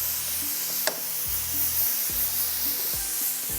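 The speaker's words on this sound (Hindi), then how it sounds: "थोड़ी सी प्याज और हरी मिर्चों को फ्राई करके भी हम इसी में निकालेंगे" Onions and green chilies fry in hot oil with a steady, bright sizzle, while faint scraping stirs and a sharp clink sound now and then.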